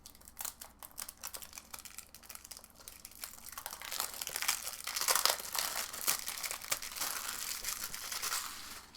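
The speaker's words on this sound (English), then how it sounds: "If I can ever get this plastic off." Plastic wrap crinkles and tears as it comes off a Breath of the Wild game box, with close-up, irregular crackling that grows busier and louder midway.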